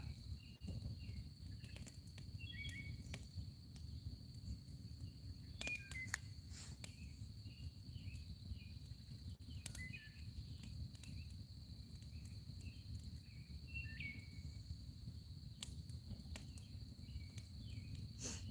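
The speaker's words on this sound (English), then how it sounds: "I hope you can hear all the crickets hollering" Crickets chirping on a summer night outdoors, a steady dense high trill continuing throughout, with faint scattered insect calls and a low background rumble; no talking.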